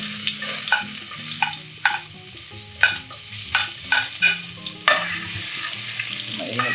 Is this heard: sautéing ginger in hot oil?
yes